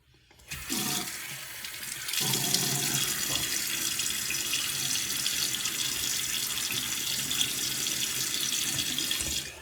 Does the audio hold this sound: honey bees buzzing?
no